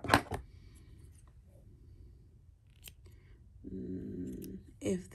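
Yarn snipped with scissors during crochet work, a few sharp, quiet blade clicks spaced apart, with a soft voice briefly present in a quiet room.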